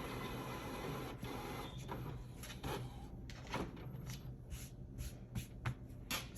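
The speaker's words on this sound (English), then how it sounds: "that's my printer going off." A printer runs in a sewing room, giving faint, uneven mechanical clicks, shuffles and soft clunks that continue steadily at a distance with no voices.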